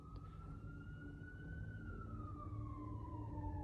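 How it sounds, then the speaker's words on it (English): An emergency vehicle siren wails through a town, one long rising and falling tone at moderate distance over steady traffic rumble. "Is that an ambulance or the sheriff department?"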